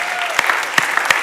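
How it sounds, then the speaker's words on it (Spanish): Congregation clapping in a church prayer house, a steady wash of many hands with a few sharper individual claps standing out, moderately loud and continuous over about a second. "Denle un aplauso al Señor."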